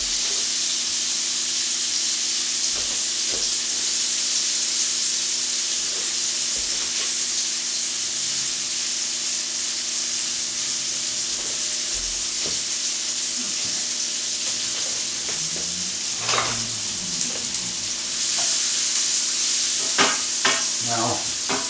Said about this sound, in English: what we want to do here is to caramelise the onions